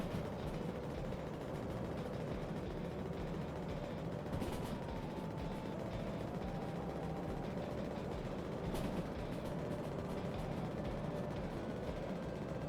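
TM3 shunting locomotive from Derail Valley running hard, a steady loud low diesel drone and mechanical rumble throughout with a faint rising whine, no talk.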